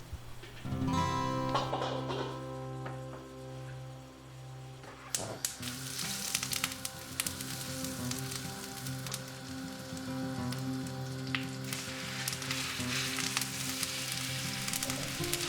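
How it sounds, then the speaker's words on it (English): Butter and olive oil heat in a copper Saç pan, starting as a quiet crackle and swelling after a clatter into a steady, close, fairly loud sizzle with scattered pops, with no voices. "I'm gonna cook it in some butter and olive oil mixture"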